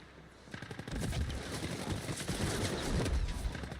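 Automated turrets in a video game fire rapid bursts, a dense stream of close, sharp shots that builds and continues without pause.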